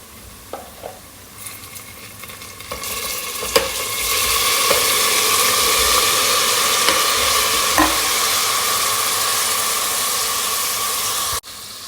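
Chicken pieces hit golden-brown fried onions in a hot pan, and after a few clinks a loud, steady sizzle takes over and holds until it stops abruptly at the end.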